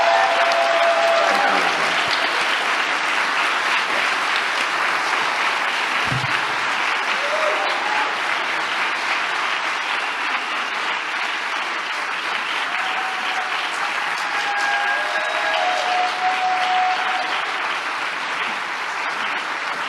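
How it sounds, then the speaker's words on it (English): A large audience at the ACLU of Washington's 2023 annual celebration applauds Edgar Villanueva in a steady, dense roar of clapping that holds loud for the whole stretch. "let's have one more round to thank Mr."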